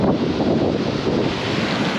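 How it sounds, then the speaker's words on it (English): Strong seaside wind buffets the microphone in a steady, loud roar with surf noise underneath, on a foamy shoreline in Sweden. "And if it's too windy now, guys, I'm sorry about that."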